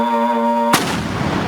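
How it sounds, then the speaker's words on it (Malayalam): A ceremonial kathina gunpowder charge fired at a mosque in Malappuram, Kerala: a steady tonal hum, then a single loud sharp blast whose rumbling echo fills the rest of the moment. "സാധാരണ കദീന പൊട്ടിക്കുന്നതിൽ നിന്നും വ്യത്യസ്തമായാണ് ഇവിടെ കദീനയിൽ വെടിമരുന്ന് നിറച്ച് പൊട്ടിക്കുക."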